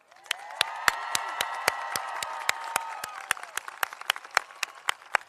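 Commencement audience at a University of Colorado Denver spring ceremony applauds families and loved ones, a dense wash of many hands clapping that swells steadily, then thins into scattered louder individual claps toward the end.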